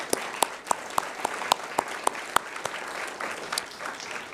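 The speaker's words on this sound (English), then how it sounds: "Please give them all a round of applause right now." A small audience at a university graduate research competition claps, with sharp, distinct, fairly quiet hand claps in an uneven rhythm that thins out toward the end.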